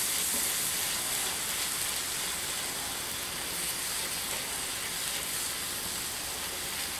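Meat sizzles in a pan as flour is stirred in for a cottage pie, a dense, even hiss that continues steadily at moderate level with no voices.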